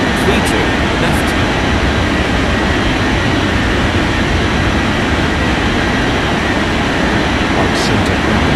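An airliner takes off from a runway in the air traffic control game Unmatched Air Traffic Control, a loud, unbroken jet roar that fills the whole stretch at constant strength.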